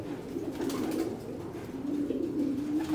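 Racing pigeons coo steadily in a loft colony, a soft low warbling drone that rises and falls continuously, close by with no talk.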